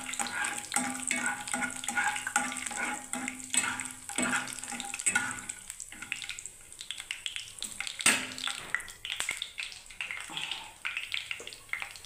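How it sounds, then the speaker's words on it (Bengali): Peanuts fry in hot oil in a pan where onions and curry leaves were cooked, giving a steady, moderate sizzle with occasional stirring scrapes throughout. "দেখুন বন্ধুরা বাদামটাকে আমি এর মধ্যে ভেজে নিচ্ছি বন্ধুরা, দেখুন।"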